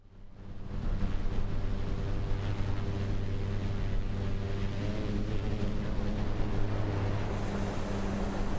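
Cessna Caravan aircraft engine in Microsoft Flight Simulator 2024, a loud, steady droning roar with a low hum that holds constant throughout.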